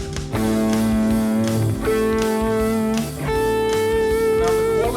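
Guitar rings out sustained notes, the same pitch picked in several octaves one after another, clear and close with no talking.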